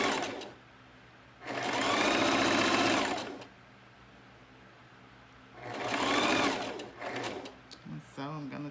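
A sewing machine stitching lace runs in two bursts of steady whirring, each lasting a second or two, with quiet pauses between; a voice speaks briefly at the end.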